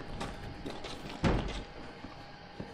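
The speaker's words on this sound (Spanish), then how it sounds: "Sentí un portazo más fuerte que la mierda" A single heavy door slam in Resident Evil 7 Biohazard lands midway as a sharp, booming thud over low ambient game noise, with a few fainter knocks and bumps around it.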